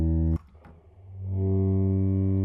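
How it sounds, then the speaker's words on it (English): A sustained D5 clarinet sample from the VSCO woodwind library, pitched down low inside a Phase Plant synth patch; a steady harmonic tone cuts off, a couple of clicks follow, then a deep droning note swells back in and holds. "If you go to the VSCO and then the woodwinds section and the clarinet D5"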